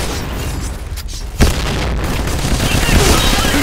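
A grenade goes off in the shooter game PointBlank: one loud boom, with game noise and the rumble of the blast continuing after it.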